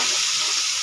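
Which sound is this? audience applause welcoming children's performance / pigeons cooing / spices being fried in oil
spices being fried in oil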